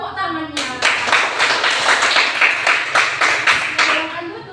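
Students in a classroom give a steady round of applause lasting about four seconds, many hands clapping close together after a teacher's spoken prompt.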